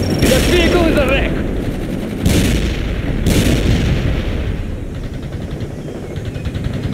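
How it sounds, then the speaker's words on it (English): Rapid bursts of machine gun fire with booming impacts in a military video game, loud and layered, with game voice lines underneath. "A machine gun is ready."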